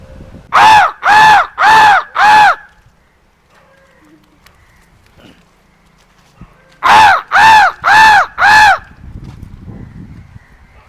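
Crows caw in two loud bursts of four evenly spaced calls, separated by a few seconds of near silence.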